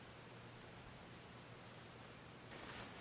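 Three evenly spaced high chirps sound outdoors at about one-second intervals, faint and thin over a quiet, steady background with no talk.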